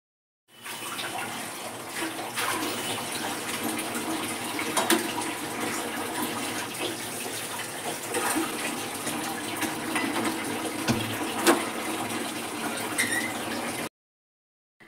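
Water gushing steadily from a faulty basin tap that will not shut properly, a continuous close splashing rush that cuts off abruptly near the end.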